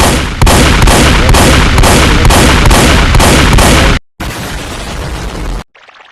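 Booming shotgun blasts from the Iron Man War Machine addon in Minecraft, a rapid run of loud repeated shots for about four seconds, then a short pause, one more sustained burst, and a faint tail.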